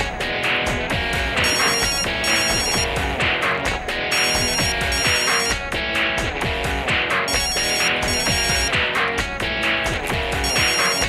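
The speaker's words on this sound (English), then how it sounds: "It's ringing." A loud musical ringtone loops continuously with a steady electronic beat and repeating chime phrases, with no voices over it.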